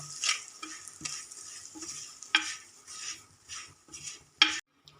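Coriander, chili and turmeric powders sautéed in oil, a series of distinct spatula scrapes and taps against the pan over a faint sizzle, close and fairly quiet, no talking.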